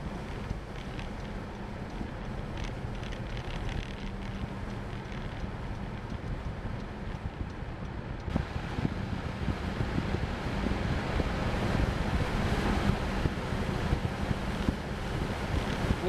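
Heavy wind rushing over a car with a PVC roof rack at about 45 mph on a back road, a constant broad roar and buffeting that grows louder and brighter partway through, with no talking.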